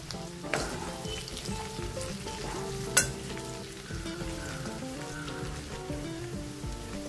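Garlic and okra sizzle and fry steadily in a pan for Chettinad-style vendakka mandi, a close crackling hiss with a few sharp clinks of utensils against the pan.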